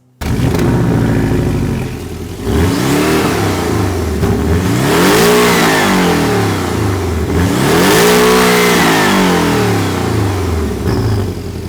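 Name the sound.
sports car exhaust revving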